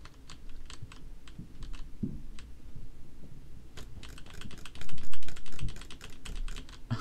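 A computer mouse with Scotch tape on it being drag-clicked, producing rapid bursts of close, crisp clicks. A slower scattered stretch comes first, then dense fast clicking, with one or two louder bumps.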